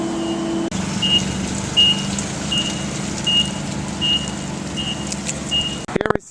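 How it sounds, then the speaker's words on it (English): A delivery truck carrying greenhouse annuals reverses at a loading dock, its backup alarm beeping at a steady, even pace over a low, rumbling engine, close and loud. "Here we see another truck arriving with some more of those gorgeous annuals from the greenhouse."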